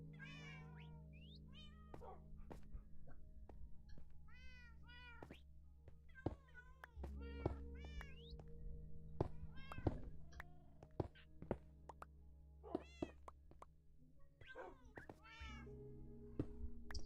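Cats meow repeatedly indoors, several drawn-out, rising and falling calls spread across the stretch, with occasional dull knocks and thumps and footsteps between them and no clear talking.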